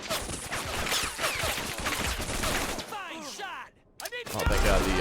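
Gunfire and grenade explosions in the war strategy game Men of War: Assault Squad, dense bursts of rapid shots and booming blasts, loud and continuous, with a brief lull before the battle noise surges back.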